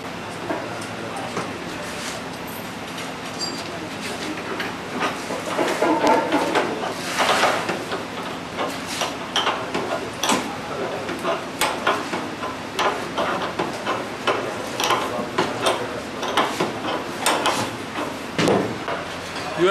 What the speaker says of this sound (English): After seeing the Geneva mechanism which works very smoothly without any problem.